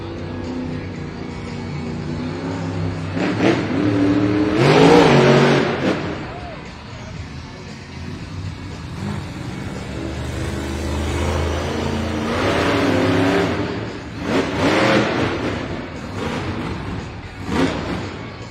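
The Jurassic Attack monster truck driven by Tim Hall Jr. at a Monster Jam arena event revs its engine in several loud bursts, heard under an announcer's voice and crowd noise.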